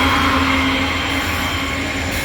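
A coal train hauled by an SD70 locomotive rolls past, a steady loud rumble of railcars with a faint wheel whine running throughout.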